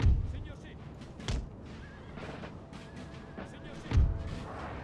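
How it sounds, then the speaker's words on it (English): Musket volleys and booming artillery in a Napoleon Total War battle with the Papal States and French, scattered heavy thumps and crackling shots over a steady distant din. "The French are shooting up them through the back"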